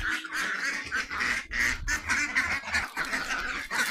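Domestic village ducks quacking continuously and close by, a dense overlapping flock chorus at feeding time, loud throughout with no speech.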